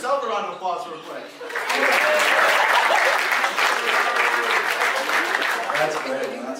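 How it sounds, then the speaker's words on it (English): A comedy club crowd breaks into loud, sustained applause and cheering after a brief stretch of talking at the start of a stand-up set. "Give yourself a round of applause real quick."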